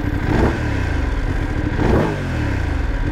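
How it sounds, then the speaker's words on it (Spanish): A Voge 900 DSX motorcycle engine is revved twice in quick blips, each rising sharply and settling back to a throbbing idle, close and loud. "Cuando ya subimos de revoluciones, la verdad que tiene un sonido agradable"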